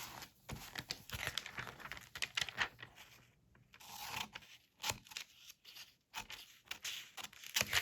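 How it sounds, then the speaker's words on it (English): Scissors cutting a word out of a sheet of junk mail paper, with repeated close crisp snips and papery crinkles and rustles running throughout, no talking. "So I'm going to go ahead and cut that out and then put that aside."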